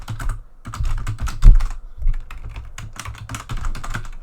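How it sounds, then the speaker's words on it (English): Rapid typing on a computer keyboard, close and clear, with irregular bursts of keystrokes and short pauses during a Unity programming session. "I'm really messing up my typing today"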